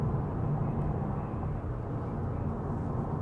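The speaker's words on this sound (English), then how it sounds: "most of the noise you hear is actually from the tires" Steady low tire roar fills the cabin of a Honda City Hatchback 1.5 V cruising on a Langkawi road, a constant dense rumble with the engine barely noticeable and no one speaking.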